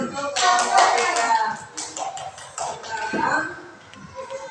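Students in a classroom clap for group 3 in a short, ragged burst that swells and then thins out, close by, with voices chattering over it.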